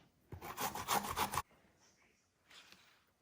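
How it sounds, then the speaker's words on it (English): Fresh ginger rasps against a grater in one close, rapid burst of scraping strokes lasting about a second, followed by quieter scattered scrapes. "I've completely finished grating the ginger"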